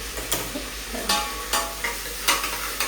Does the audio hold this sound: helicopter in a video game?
no